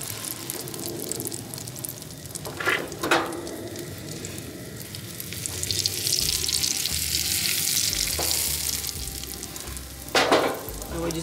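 An egg and cheese sandwich fries in butter in a pan with a constant, close sizzle. A few louder scraping bursts from a spatula stand out above the steady frying, and no voices are heard.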